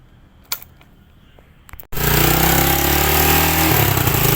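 A motorcycle engine starts after an ignition switch repair: a couple of faint clicks, then a sudden loud, steady roar of running close by that continues to the end.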